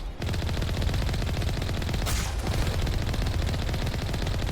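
Rapid, sustained automatic fire from a dinosaur-mounted turret in the Mass Effect Legendary Edition video game, a dense, loud, continuous burst of gunfire that barely pauses for the full stretch.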